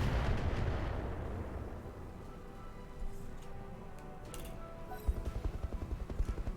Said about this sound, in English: that's an autocannon